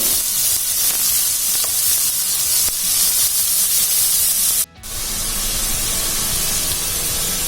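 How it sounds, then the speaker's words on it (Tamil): Loud, steady sizzling hiss of finely chopped onions frying in a hot pan, briefly cut off then resuming with a rougher crackle. "நல்லா பொடியாக நறுக்கி வச்சுருக்க வெங்காயத்தை போட்டு நல்லா வதக்கணும்."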